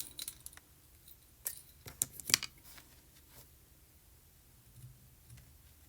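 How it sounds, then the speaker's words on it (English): Paper snips cut through card stock during card making: a few quiet, crisp snips bunched in a short burst amid soft rustling, close by and with no one speaking. "these are my new paper snips, and you can see how easily they cut this."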